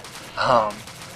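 A bowgun fires in Monster Hunter 3 Ultimate, one short, sharp burst rising and fading over about half a second, moderately loud against a quiet background.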